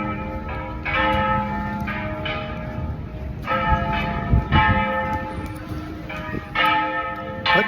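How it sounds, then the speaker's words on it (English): Church bells in Querétaro ring out in overlapping peals, several strikes sounding at uneven intervals with a long ringing resonance, fairly close and clear. "What the hell with these bells?"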